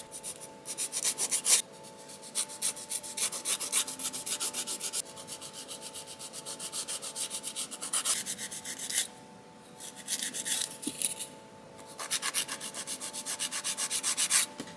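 Press-on gel nails being filed, a close, steady rasping scrape in rapid back-and-forth strokes that runs almost continuously, broken by a few short pauses.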